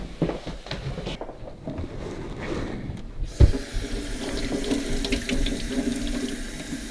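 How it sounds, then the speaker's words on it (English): Tap water runs into a sink to rinse, a steady splashing stream that starts after a short pause and continues loud and close to the end. "Now I'm going to rinse this off a little bit."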